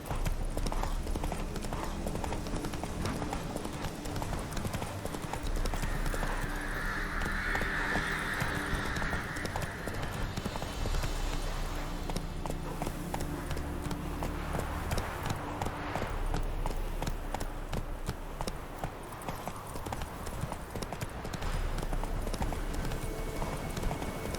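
Horse hooves gallop in a steady, rhythmic clip-clop through The Witcher 3, a quiet, continuous pounding that runs alone for the whole stretch.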